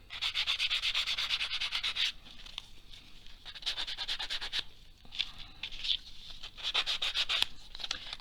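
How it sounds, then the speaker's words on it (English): Sanding the edges of paper die-cut shapes, made with Tim Holtz Baggage Claim dies, to look worn: quiet, close, quick rhythmic scratchy strokes in several bursts with short pauses between. "So let's do a little sanding on it to make those edges look a little bit worn."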